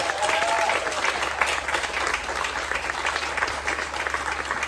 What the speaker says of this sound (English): I want everybody to give Amelia a big round of applause.